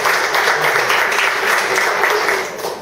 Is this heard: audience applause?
yes